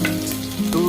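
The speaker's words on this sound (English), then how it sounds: "and fry it very well" Onion frying in a pan for a chicken dish, a steady close sizzle that runs without a break for the full second.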